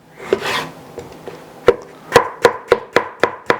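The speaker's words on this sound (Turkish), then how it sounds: "ince ince piyazlık domates doğrayacağız." A knife chops a tomato finely on a board, a few scattered cuts giving way to a steady run of evenly spaced strikes, close and crisp.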